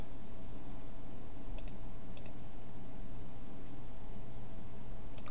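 Mouse clicks on a web page link during website setup, a few sharp, faint ticks spaced apart over steady low background hiss.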